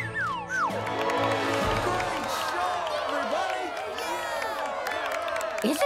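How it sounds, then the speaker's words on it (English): An audience cheers and claps after a show, a steady wash of crowd noise and scattered applause that holds for several seconds, with music mixed in. "Bravo! Bravo! They're clapping. They loved our show."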